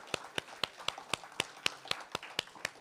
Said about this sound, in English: Another round of applause for Candace Perry and MC Kenny.